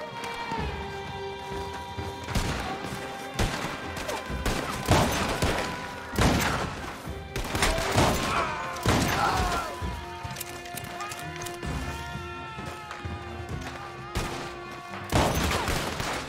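Gunfire in the Red Dead Online video game: repeated sharp shots and short volleys crack over a background of hoofbeats and game music, with someone talking at times between the bursts.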